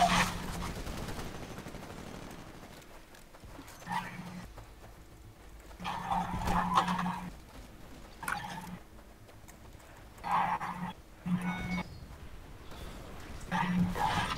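Gunfire in the video game Titanfall crackles in bursts of rapid shots between quieter gaps, moderately loud and sometimes mixed with game noise.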